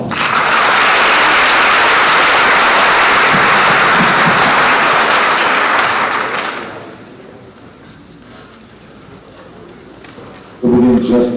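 A school awards assembly audience breaks into loud, sustained applause for about six seconds before the clapping dies away to quiet room noise, with a brief sound near the end.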